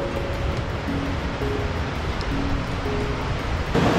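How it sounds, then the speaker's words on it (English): Creek water flowing at a wet trail crossing on a Mount Lola hike north of Lake Tahoe, a steady close rushing and burbling with no voices. "And we got another wet creek crossing."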